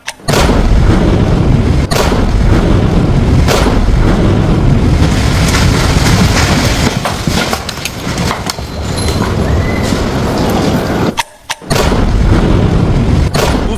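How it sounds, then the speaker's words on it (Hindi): Loud, sustained roar and rumble of an army demolition blast destroying a militant's house in Jammu and Kashmir, broadband and continuous for most of the stretch with a brief dip near the end before resuming. "साथ ही देखिए, आतंकियों का घर भी उड़ाया जा रहा है।"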